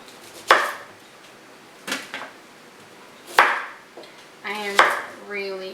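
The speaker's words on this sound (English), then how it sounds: "I'm just slicing off the stem and splitting them in half" Knife cutting through fresh Brussels sprouts on a board, trimming stems and splitting them in half: four or five sharp, separate chops spaced about a second apart, close and crisp against a quiet kitchen.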